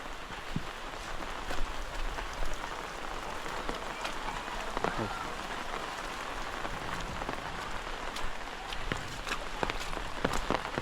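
Out-of-season May downpour soaking a Konkan wedding stage: steady rain hiss with scattered sharp drips and taps on nearby surfaces, uneven and close, continuing throughout with no voices.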